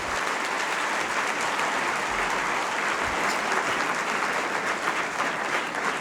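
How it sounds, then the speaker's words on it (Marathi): Sustained applause from an audience at a study circle gathering, dense and steady clapping throughout with a faint crowd murmur and no speech. "श्रीकर परदेशी सरांसाठी डोळ्यात जोरात टाळ्या वाजवायला काही हरकत नाही."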